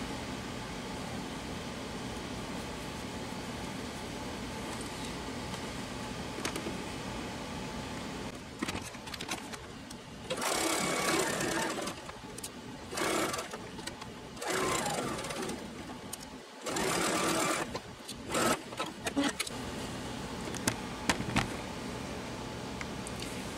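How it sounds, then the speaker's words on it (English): Sewing machine stitching quilt pieces for a half-square-triangle table topper, with several short runs of fast, steady needle whirring between pauses under a low room hum. "now I'm going to sew."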